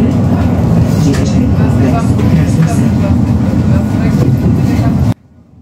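Sofia tram line 5 rolls along near Krasno Selo with a loud, steady low rumble and rattle from inside the car, with talk over it; the noise cuts off abruptly at the end.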